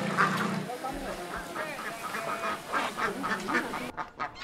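Ducks quack repeatedly in a rural rice-fish-duck paddy system, a chorus of nasal calls at moderate distance under a continuous narrating voice.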